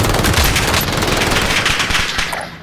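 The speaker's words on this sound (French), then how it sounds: "On me tire dessus." Dense, loud machine gun fire from a PPSh in Call of Duty Warzone bursts continuously up close, with overlapping shots that tail off slightly at the end.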